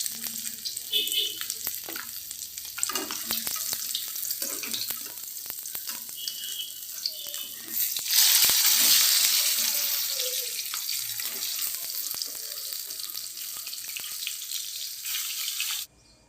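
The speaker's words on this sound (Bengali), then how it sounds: "মাছটা আমি লাল লাল করে ভেজে নেবো" Steady crackling sizzle of rohu fish frying in hot oil, growing louder and hissier midway, with occasional clinks and faint kitchen noises.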